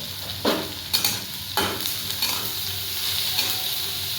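Mutton browning in a hot pan with a little salt and turmeric sizzles steadily, broken by several sharp scraping stirs of a spoon against the pan, with no talking.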